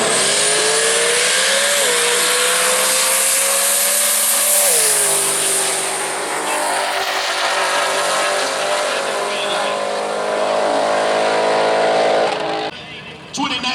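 A GTO and a 2013 Mustang launching side by side at Worldwide Technology Raceway drag strip, engines roaring loud with climbing revs and gear shifts, then fading as the cars pull away, under an announcer's commentary.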